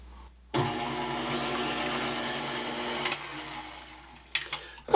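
Electric mixer whirring steadily through beignet batter with vanilla added, a loud continuous motor drone after a brief quiet start, with a few clatters near the end.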